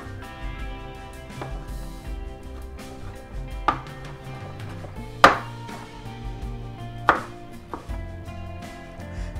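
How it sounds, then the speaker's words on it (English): Tomatoes being chopped into small pieces with a knife on a board, several quick taps with a few sharper louder strikes, close and clear with no talking. "Now the tomatoes, we're gonna cut them in very small pieces as well."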